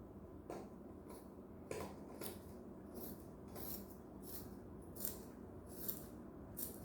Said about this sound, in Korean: 여기는 그래서 그냥 저는 가위로다가 잘라버릴게요.